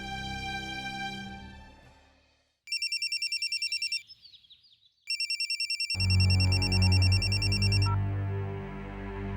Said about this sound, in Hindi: एक बार फोन करके गौतम जी की माँ से बात कर लीजिए